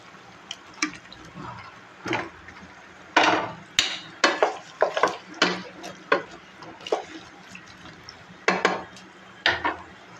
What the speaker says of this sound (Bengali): মাংসটা আমার বোনা হচ্ছে এখন মাংসটা আমার বোনা হচ্ছে